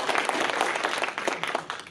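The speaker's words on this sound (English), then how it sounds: "Let's give him a warm round of applause." An audience at a chess lecture applauds steadily, a dense wash of many hands clapping at once, sustained and fairly loud throughout.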